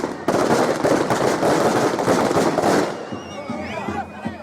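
Firecrackers burst in a rapid crackling barrage at a village celebration in Tamil Nadu, loud and dense for nearly three seconds before thinning into scattered pops, with voices and whistling sounds rising as the bursts fade.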